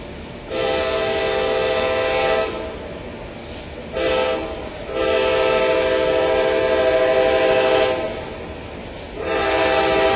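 A train horn blares in several long blasts with brief gaps, loud and harmonic over a steady low rumble of the moving train.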